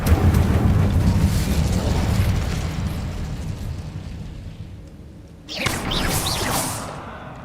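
An Incendio fire spell cast in Hogwarts Legacy bursts out with a loud, roaring whoosh of flame that slowly fades, then a second fiery burst flares up near the end.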